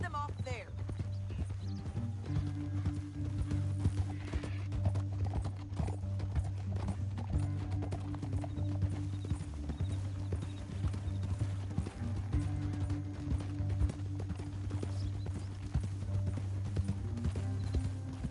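In Red Dead Redemption 2, horse hooves beat out a steady galloping clip-clop for the whole stretch, mixed with a low game rumble and moderately loud in the foreground.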